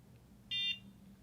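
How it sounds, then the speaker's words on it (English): A NuFACE Trinity facial toning device emits a single short, clear electronic beep, faint and alone against quiet room tone. "you can hear it beep telling me to move it to a different section"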